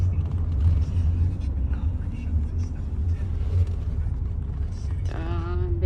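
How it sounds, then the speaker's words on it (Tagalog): Inside a car on a busy road, a low steady engine and road rumble drone throughout, with a voice speaking briefly near the end. "Very busy yung daan."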